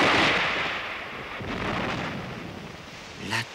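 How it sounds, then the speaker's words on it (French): A cartoon storm on the open sea sounds as a broad, roaring rumble of wind and crashing weather, loud at first, then surging again before a short sharp crack near the end. "La tempête!"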